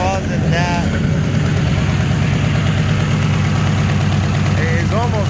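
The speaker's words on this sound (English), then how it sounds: "I can immediately hear there's an exhaust leak on this bank." S10 truck engine fitted with Holley Sniper EFI, idling with an exhaust leak on one bank, a loud steady rumble with a ticking pulse, while people talk over it.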